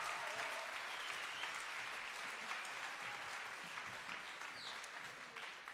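Applause from the audience at the Músíktilraunir 2026 finals as a band is congratulated, dense sustained clapping from a large crowd at an even level, easing slightly near the end.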